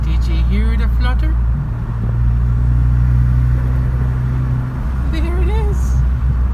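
Ford Focus ST with a catless exhaust and new intake, driving with a steady low engine drone under road and wind noise, while brief chirpy turbo flutter bursts come through faintly between shifts; a voice talks over it.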